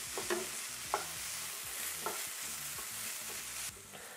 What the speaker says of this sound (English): We're gonna keep frying this up and stirring it.